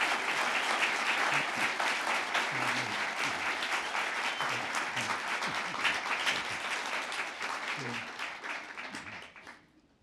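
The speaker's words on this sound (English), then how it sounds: "Round of applause for that." Sustained audience applause fills a Black History Month program, a dense crowd of hands clapping steadily for about ten seconds before thinning and fading out at the end.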